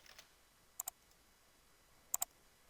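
A computer mouse clicking on a button, two pairs of sharp double clicks spaced apart against a near-silent background.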